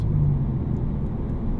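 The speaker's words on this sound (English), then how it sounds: "throw it in neutral. So. All right, we'll coast." A modified 2002 Chevrolet Impala coasts in neutral, giving a steady low engine and road rumble from inside the car with no speech.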